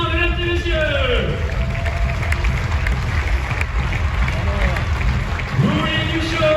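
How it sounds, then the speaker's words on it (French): A crowd at a tennis Challenger tournament in Rennes claps steadily in a dense, sustained wash of applause, with voices and a few shouts rising over it. "Merci de leur accorder un applaudissement"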